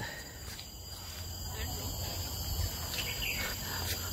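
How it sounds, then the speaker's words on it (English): Faint high bird chirps and calls drift through a steady hum of insects and background noise in the forest of Bukit Timah Nature Park, sounding distant and scattered. "There's a bird sounds."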